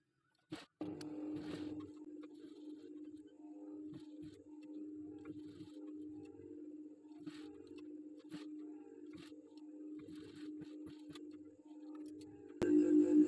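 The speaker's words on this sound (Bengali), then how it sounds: "প্রথমে আমি গোল রাউন্ডে সেলাই করে নেব তারপরে দেখুন আমি লাভটি সেলাই করব" An electric sewing machine runs in a long, steady, humming stretch while stitching the round neckline of a 28-inch boat-neck blouse, with faint soft knocks and rustles of fabric handling and a louder burst at the very end.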